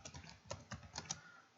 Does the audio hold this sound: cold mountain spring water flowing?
no